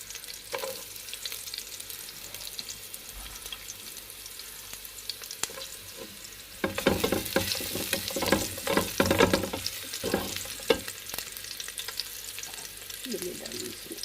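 Onions sauté in a pan for chicken chow mein: a quiet sizzle that swells into a louder, crackling fry with stirring scrapes midway, then settles back down.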